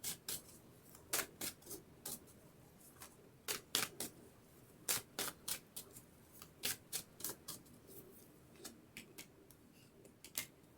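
Tarot cards being shuffled and handled, a quick run of sharp papery riffles and flicks in irregular bursts, close up and fairly quiet with no talking.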